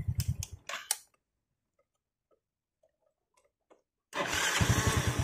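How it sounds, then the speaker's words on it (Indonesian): A Yamaha Jupiter Z motorcycle with a badly set air-fuel mixture cranks briefly in a short burst, falls quiet for a few seconds apart from faint ticks, then catches and runs with a loud, steady, close engine roar. "kalau tadi di starter nggak mau nyamber karena setelannya nggak normal untuk setelan anginnya ya, terlalu kenceng."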